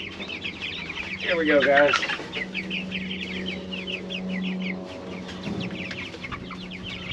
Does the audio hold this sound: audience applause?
no